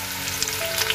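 Curry leaves dropped into hot tempering oil with onion and garlic in a kadhai for mutton curry, crackling and sizzling loudly and steadily for a brief moment, no talk.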